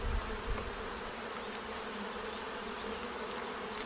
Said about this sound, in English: we've got a lot of bees in this one